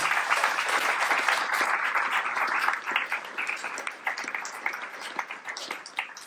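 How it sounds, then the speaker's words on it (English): Audience applause at a company event for staff and founders, a dense burst of clapping that thins into scattered claps toward the end. "big round of applause to Amy and Kuba and other people that have started the company with us together"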